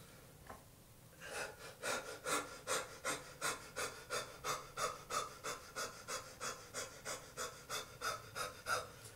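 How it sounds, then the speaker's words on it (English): Person doing yoga dog breathing, rapid rhythmic panting of about two quick breaths per second, close and loud, steady after a brief quiet start. "It's called dog breathing in yoga. I'm doing like dog do breathing."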